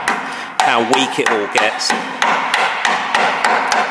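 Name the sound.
hammer striking Corvette crossmember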